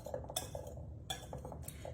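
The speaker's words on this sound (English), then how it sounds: "I'm going to whisk all of those dry ingredients together" Dry muffin ingredients for lemon blueberry muffins whisked in a bowl, giving quiet, close scraping and light metallic clinks in short uneven strokes.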